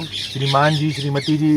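Parrots give a few loud, close, nasal squawking calls with a word-like, speech-mimicking quality, in short bursts separated by brief gaps.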